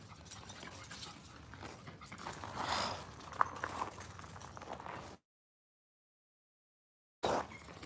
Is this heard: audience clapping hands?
no